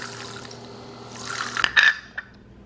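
A makeup brush is swished and rinsed in water, giving soft continuous liquid sloshing that builds into a louder splashing, dripping burst near the end, close and without talk.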